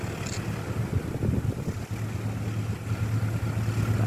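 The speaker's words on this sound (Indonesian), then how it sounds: "Ini dia suara deru mesinnya. Oke, terlihat lokomotif CC206." A CC206 diesel locomotive hauling the Jayabaya train approaches, its low engine rumble droning under wind noise, fairly faint and steady with slight swells.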